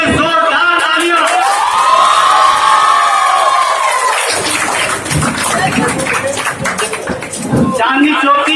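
A crowd cheers and claps at a school Independence Day celebration as a member of parliament arrives, with a loud amplified voice over the noise at first, then broader clapping and shouts continuing to the end.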